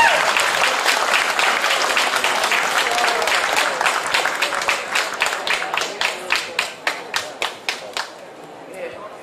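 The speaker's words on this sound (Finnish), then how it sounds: "Isot aplodit Sunny LaDonnalle!" Applause from a pageant audience in Nastola, Finland, honouring a princess-title winner: dense clapping from many hands that thins toward the end into a few distinct, rhythmic claps.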